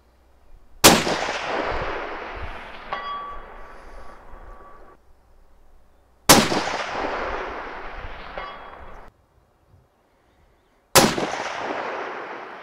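Three loud rifle shots fired at targets set at 520 out on a range, each a sharp crack followed by a long rolling echo that fades over several seconds, spaced well apart with quiet between.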